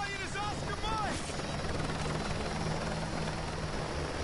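A helicopter in a military shooter video game, steady rotor drone and engine roar filling the background continuously, with a voice talking briefly at the start.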